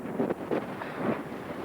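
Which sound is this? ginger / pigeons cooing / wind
wind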